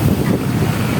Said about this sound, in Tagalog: Medyo malakas ang hangin dito.